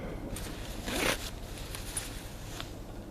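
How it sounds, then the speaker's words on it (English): A one-way front zip on MultiCam Gen III Level 5 soft shell trousers is pulled once, giving a short, close rasp around the one-second mark in an otherwise quiet room. "It's only a one-way zip."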